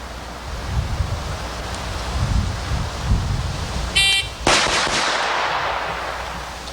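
A handgun fires during a timed shooting drill outdoors, a single sharp report after a brief electronic timer beep, standing out loudly against steady background wind noise.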